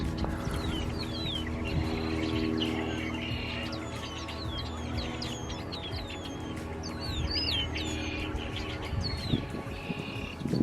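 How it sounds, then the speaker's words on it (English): A flock of red-winged blackbirds calls in a wetland, a dense chorus of overlapping chirps, trills and whistles over a steady background, near and continuous throughout. "over here are a whole bunch of red-winged blackbirds"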